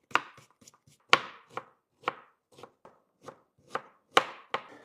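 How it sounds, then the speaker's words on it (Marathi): Onion being finely chopped with a knife on a board, about a dozen sharp, close taps in an uneven rhythm, some louder than others, with no talking. "आपण आता कांदा बारीक कट करून घेऊ"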